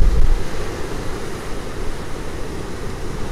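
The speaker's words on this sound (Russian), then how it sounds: "Волны здесь не бьют в берег, а идут вдоль берега." Sea waves on a surf beach in Adler, a continuous loud rushing roar of surf mixed with wind buffeting the microphone, with no talking.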